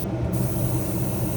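A continuous spray-can hiss of metallic blue paint misting over a 3D-printed 2024 Ford Mustang Dark Horse model, close and steady for the whole short burst.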